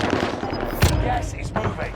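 Gunfire in a shooting video game: a sharp shot cracks out, then a second burst follows amid busy game noise, with a voice speaking briefly.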